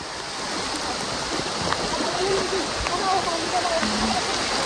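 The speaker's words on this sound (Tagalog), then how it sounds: "Ayan, lakas ng ulan." Heavy rain pours steadily in a dense hiss, with running water and a few brief voices and shouts over it.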